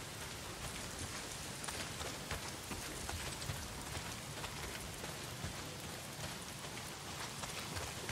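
Heavy downpour in the video game Days Gone, a steady, dense hiss of rain pattering on surfaces, continuous and fairly quiet, with no talk.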